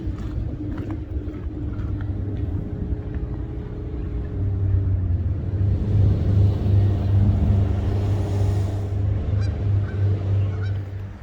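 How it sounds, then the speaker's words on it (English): Road traffic near a bridge on a walking route toward Fairborough, half a mile from a city centre: a steady low rumble that swells as a vehicle draws closer midway, with honking calls like geese nearby. "you can hear the traffic and everything"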